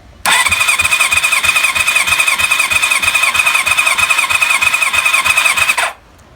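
A Kawasaki ZL600 Eliminator motorcycle engine spins on its starter with the throttle held wide open during a compression test. A steady, loud, rhythmic churning whir runs for about six seconds, then cuts off.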